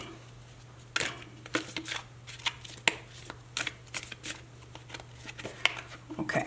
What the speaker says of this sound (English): So I'm going to pull some more cards.